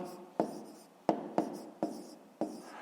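A pen or pencil writes a math calculation by hand, giving five crisp taps and scratches at irregular intervals, close and quiet with nothing else heard.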